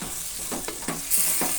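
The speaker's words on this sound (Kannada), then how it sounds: "ಈಗ ಚೆನ್ನಾಗಿ ಮಿಕ್ಸ್ ಮಾಡಿ." Rice and masala for bread pulao are mixed in a pan, giving several rhythmic scraping strokes over a soft, steady sizzle close by.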